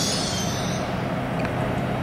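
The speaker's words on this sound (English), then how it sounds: "No, Swansea train, that is." Swansea-bound passenger train passing along the line between Cardiff, Bridgend and Sarn, a steady rumble and rolling rail noise heard nearby with a faint metallic squeal, continuous throughout with no talking.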